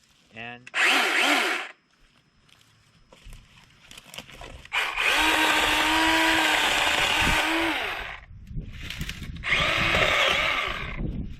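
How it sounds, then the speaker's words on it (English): A Craftsman V20 battery chainsaw revs in loud bursts, cutting through wood with a steady high whine, pausing between cuts; close and dominant. "today we're going to do a nice little vid on a CRAFTSMAN V20 battery powered chainsaws"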